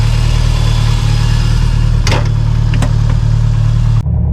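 A Series Grey Subaru STI idles steadily after its first start, a loud, close, even engine drone with a couple of brief sharp clicks partway through before the sound cuts off abruptly near the end.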